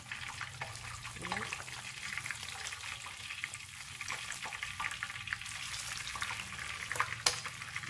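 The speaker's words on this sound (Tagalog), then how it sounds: "it's important you hear that sizzling sound" Shrimp tempura deep frying in hot oil gives a steady, dense sizzle with crackling pops throughout, heard close and alone.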